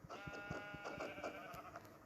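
Sheep bleat, a repeated wavering call over a faint, steady background, fairly quiet and somewhat distant.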